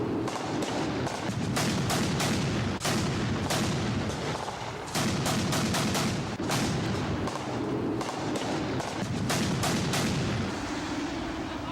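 MLRS rocket artillery firing in a simulated fire plan during a 1987 military field exercise, a dense, continuous rumble of blasts and rapid cracking reports at steady loudness, with no voices heard.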